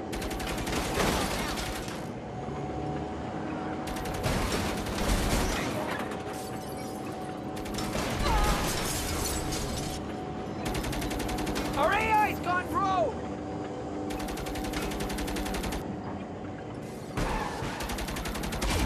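A tank tears through a city in Saints Row, producing repeated loud bursts of heavy gunfire and explosions in rhythmic bursts across the stretch, with voices and game chatter mixed underneath.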